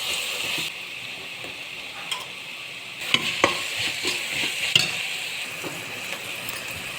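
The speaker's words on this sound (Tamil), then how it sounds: "இஞ்சி பூண்டு பேஸ்ட்டு சேர்த்துக்கோங்க. நல்லா வதக்குங்க." Ginger garlic paste sautés in a pan for vegetable pulao, a steady bright sizzle with the hiss swelling midway, broken by a few light clinks and taps of a stirring utensil.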